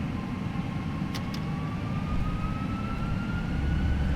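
FSLabs A320 jet engines in a flight simulator spool up for takeoff, a steady broad roar with a slowly rising whine growing gradually louder, with no talking.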